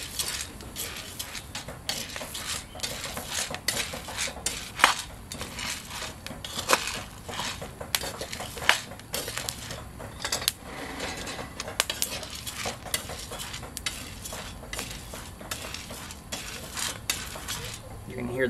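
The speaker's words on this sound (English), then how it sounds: "You'll hear that it's starting to crack like popcorn. Those are the beans. Beans are cracking" Green coffee beans reach first crack while roasting, giving a dense, steady stream of sharp popcorn-like crackles over a constant rattling of tumbling beans.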